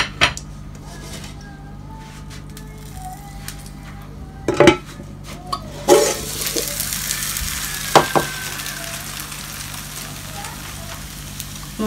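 Hash browns sizzling in a frying pan, with a steady frying hiss and sharp metallic clanks of pans and utensils as the potatoes are flipped using a second pan; soft speech is faintly present.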